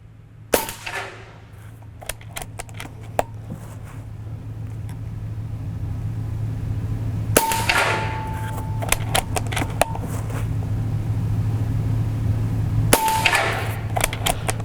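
An Umarex Origin .22 caliber PCP air rifle firing three sharp, loud shots spaced several seconds apart, each a crisp crack with a short metallic ring, over a steady low background hum.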